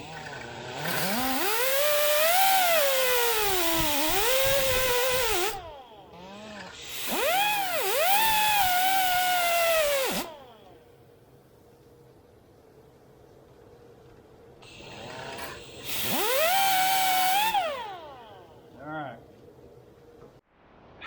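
Power tool cutting a slit through metal on a mini bike, three loud whining bursts of several seconds each with the pitch sagging under load, close by, with faint low idling between cuts.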